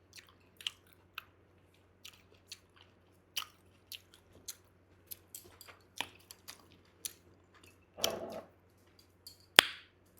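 Someone eats a home-cooked vegetarian meal of dal and cabbage, with soft, scattered chewing and occasional crisp bites heard up close between quiet gaps, without talk.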